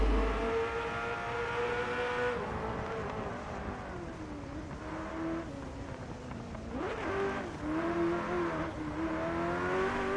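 Ferrari F40 engine in a Gran Turismo replay, a steady loud drone with rising and falling revs, strongest near the middle of the run.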